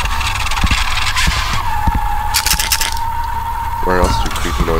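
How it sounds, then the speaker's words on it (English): A continuous grinding drone from the horror video game Tattletail, with a steady mechanical hum under rough, scraping noise. A person talks over it. "Why is there a grinding noise?"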